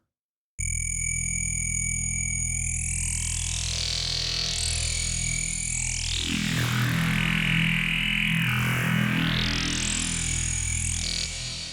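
Bright wavetable synth lead sustaining a held note, with pitch modulation sweeping up and down and a reverb wash trailing behind, loud and alone with no voices.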